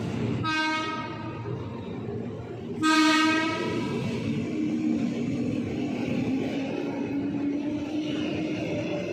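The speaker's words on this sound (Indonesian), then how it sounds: "kereta api melintas langsung jalur 4" A train runs straight through Jatinegara station in Jakarta without stopping, sounding two loud horn blasts over a continuous rumble of rail cars rolling past close by.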